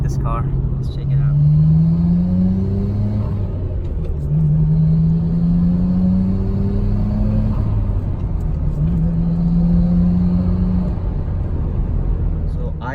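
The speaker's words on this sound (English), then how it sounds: "show you a little bit with what it is like to accelerate this car" A Nissan Skyline GT-R R34 engine heard from inside the car on a road, rising in pitch through repeated gear pulls with short pauses between shifts, a loud steady rumble throughout.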